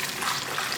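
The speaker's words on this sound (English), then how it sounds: "into our blender, we are going to add in some boiling water" Boiling water poured into a blender, a short, soft rushing splash of liquid.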